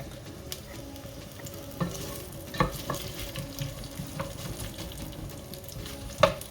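About a cup of onions fry in hot oil for a Sylheti fish curry, giving a steady close sizzle with occasional soft stirring scrapes and a few light taps against the pan.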